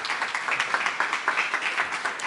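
An audience at a talk on wastewater treatment applauds to welcome a speaker to the stage. The applause is a steady, moderately faint patter of many hands clapping together, with no voices over it.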